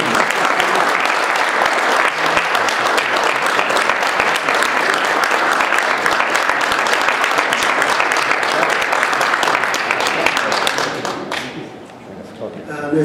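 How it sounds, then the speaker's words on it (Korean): Loud, dense applause from a forum audience fills the hall during a flower-bouquet presentation after a special lecture, continuing steadily for about eleven seconds before fading, with a faint voice near the end. "박수 부탁드립니다"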